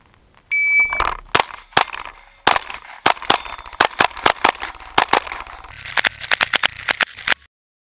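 Gunshots at a steel challenge shooting match start after a shot-timer beep, a string of about eleven loud, close cracks, some paced, some in quick pairs and runs.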